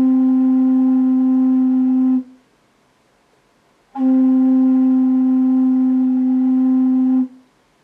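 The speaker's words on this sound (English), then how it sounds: "This is C-pipe. I deliberately left it flat to have some margin during tuning." Homemade wooden portative organ C pipe, tuned slightly flat near 260 Hz, sounding two steady, clean sustained tones of about two and three seconds, separated by a short silence.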